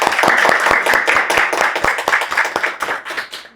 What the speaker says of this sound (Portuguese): vamos bater uma salva de palmas pra vocês pelo livro.